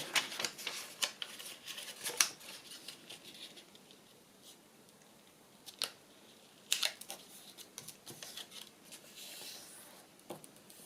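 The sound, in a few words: folding a corner of paper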